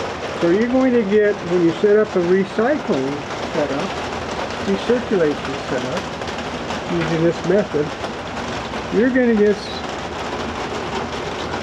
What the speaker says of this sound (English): you're going to have to excuse the noise, it's raining like hell outside in the middle of a storm